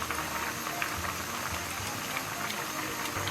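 Water for river snail rice noodles boils hard in a pot, a steady bubbling roil with crackling, splashing detail that runs evenly throughout.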